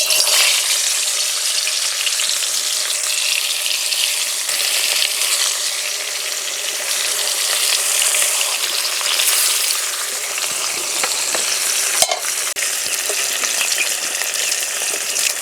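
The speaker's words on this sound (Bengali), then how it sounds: "এবার দিয়ে দেবো নুন হলুদ মাখানো মাছ।" Fish coated in salt and turmeric, likely snakehead, fries in smoking-hot mustard oil in a karahi with a loud, continuous close-up sizzle and crackle, with a brief sharp clatter near the end and no voices.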